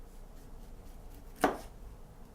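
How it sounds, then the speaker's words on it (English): A single knife chop strikes a cutting board while finely cutting citrus zest for a Provençal dish, one crisp close thud in an otherwise quiet kitchen. "We shall chop it. Okay, so cutting it very finely."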